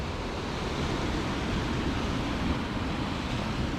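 Sea water surging and receding over stones on the Scottish coast, a steady broadband wash of surf, loud and close, with wind noise and no voices.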